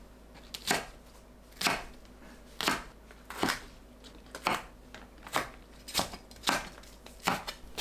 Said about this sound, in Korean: 파는 길게 칼집 넣고 10cm 길이로 썰어 준비합니다.